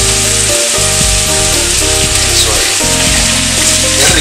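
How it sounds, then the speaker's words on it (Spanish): Cod sizzling in a pan with potatoes and carrots, a loud, close, continuous frying hiss with occasional stirring scrapes and clatter underneath. "Estamos procediendo a echar el bacalao, ¿verdad?"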